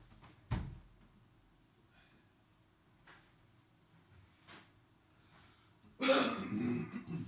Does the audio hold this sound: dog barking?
no